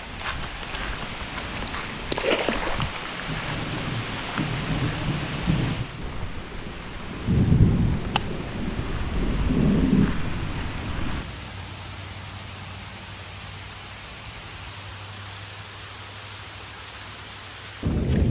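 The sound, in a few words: rain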